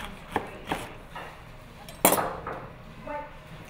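A knife slices a pomegranate in half, giving a few sharp close chops and cracks, with one louder crunching cut mid-way, spaced and alone without talk.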